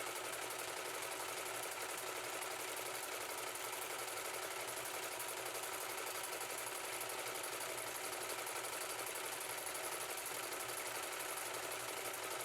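A vintage Singer sewing machine with a SIMANCO 86496 darning and embroidery attachment runs without a break, a steady, fast, close mechanical whir and chatter with no talking over it.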